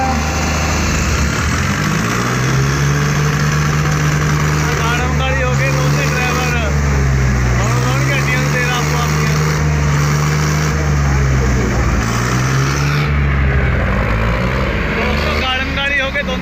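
Tractor engines, including a John Deere 5405, straining in a tug-of-war contest against a rival tractor: a deep, steady diesel drone with slowly rising and falling pitch, loud and continuous while people talk over it.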